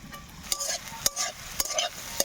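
Fish sizzles with spices in a hot pan, a crackling fry punctuated by regular sharp scrapes of stirring, close and fairly quiet.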